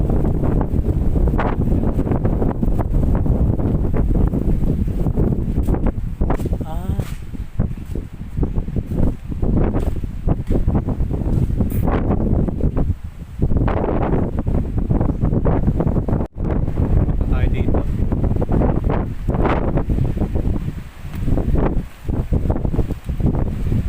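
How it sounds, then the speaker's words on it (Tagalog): Strong, continuous wind roars and buffets the microphone throughout on a high rock outcrop, with loud gusts and no voices. "Yung sobrang lakas ng hangin"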